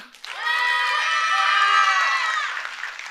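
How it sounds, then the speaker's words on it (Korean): A crowd of high school students at a local museum lecture responds with loud, sustained cheering and shouting, with some applause mixed in, rising quickly and holding for about three seconds. "이제 산청 박물관의 활동에 관심이 생기셨으면 박수 한번 주십시오"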